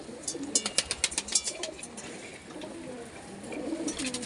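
Soft, low cooing of single flying pigeons, several birds calling in overlapping bursts, with a flutter of brief higher sounds and faint background noise.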